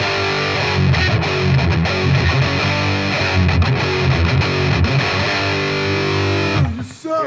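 Squier Contemporary Jaguar HH electric guitar on its humbucker pickup setting, played with driven, distorted tone in chunky riffs and ringing chords, loud and up close before a short pause.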